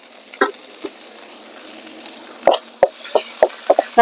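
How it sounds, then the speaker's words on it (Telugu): Curry leaves and crushed garlic cloves crackling in hot oil, a run of sharp sputtering pops that grow more frequent over a soft steady sizzle, close and fairly loud, no voices. "దోరగా ఏగనిద్దాం"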